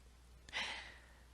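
A single soft, close yawn or sigh-like exhale, brief and breathy, rising and trailing off in a quiet room with no talking.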